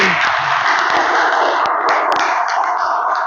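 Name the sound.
class clapping hands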